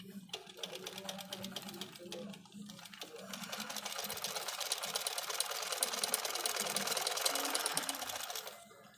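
An industrial sewing machine stitches jersey fabric in a continuous fast whirring run that builds louder toward the end, with someone talking over it.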